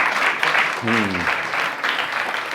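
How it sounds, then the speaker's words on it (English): An audience at a fringe-festival magic show gives a short burst of clapping, a bright dense patter that swells and fades, with a brief spoken voice cutting in partway through. "Round of applause for her, please."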